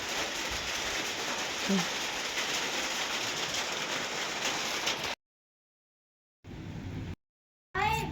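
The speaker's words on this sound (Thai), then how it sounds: "อ้าวฝนตกวันนี้อ้าว ฝนตกแล้ว" Steady rain pours down continuously at a home in rural Thailand, a dense loud hiss filling the first five seconds, then cutting out to silence before brief bursts of rain noise return, with a faint voice briefly heard.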